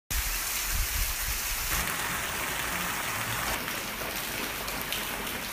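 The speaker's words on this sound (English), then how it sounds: "It's been raining a lot this week." Steady rain falls in Nusa Penida, Bali, during the wet season, a dense continuous hiss of drops on surfaces heard close and alone without any voices.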